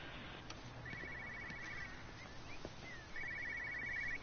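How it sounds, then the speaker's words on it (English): A cell phone rings in the video game Everybody's Gone to the Rapture, sounding in two short trilling bursts over a low ambient hum, with no one talking. "Cell phone."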